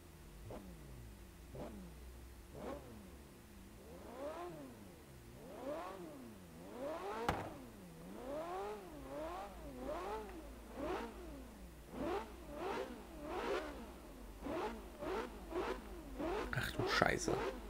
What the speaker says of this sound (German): Schon der Sauger dreht doch extrem hoch, über 9000 Umdrehungen.